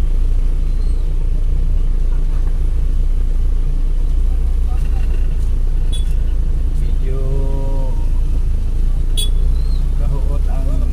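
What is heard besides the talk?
heavy road traffic near a public market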